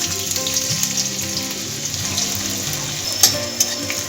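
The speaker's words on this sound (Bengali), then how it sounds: "আদাটা একটু ভেজে নিচ্ছি যাতে কাঁচা গন্ধটা চলে যায়" Steady oil sizzle of chopped ginger frying in white oil in a wok close up, with faint stirring clicks and a couple of sharp taps near the end.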